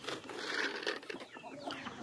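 Chickens clucking close by while being fed corn in a farmyard, a short burst of overlapping clucks and soft calls.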